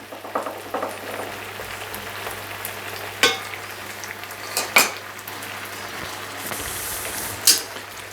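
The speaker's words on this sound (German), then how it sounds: "Und jetzt lassen wir das gute 5-6 Minuten köcheln, bis der Orangensaft komplett runter reduziert ist." A pan of gnocchi and vegetables simmers in orange juice, giving a quiet, steady bubbling hiss broken by a few sharp clinks and scrapes of a utensil stirring against the pan.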